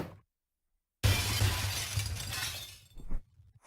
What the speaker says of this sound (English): The window shattered inward as the harsh sound of breaking glass assaulted my ears.